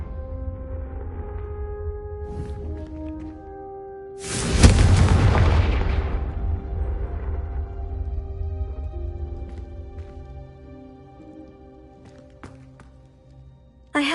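A Confringo fire spell bursts into a loud explosion in Hogwarts Legacy, a sudden booming blast that rolls and fades slowly over several seconds above a quiet sustained musical background.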